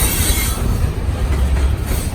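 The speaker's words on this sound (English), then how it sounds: "Tank train with manifest traffic." A freight train of tank cars and mixed manifest cars rolls past in Montreal with a loud, steady rumble of wheels on rails, close by and with no talk over it.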